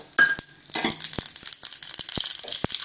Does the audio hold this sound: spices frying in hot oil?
yes